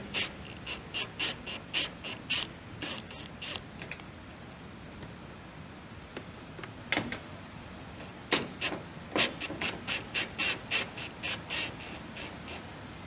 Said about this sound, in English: I'm going to go ahead and attempt to take off the bolts right here.